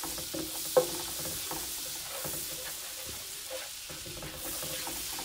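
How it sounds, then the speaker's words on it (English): Butter melting and sizzling in a pan for Cajun chicken pasta, a soft continuous crackle with scattered small pops and one sharp tap near the start, fairly quiet and close, no voices. "melt this butter on down here"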